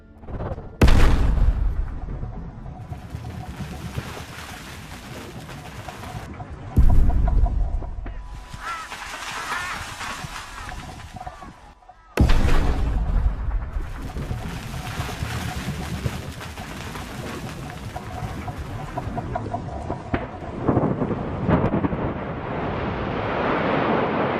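Coal mine blast bringing down 360,000 tons of rock along a long, tall bench, heard as several heavy booming detonations followed by a sustained roaring rumble of collapsing rock, with wind noise throughout.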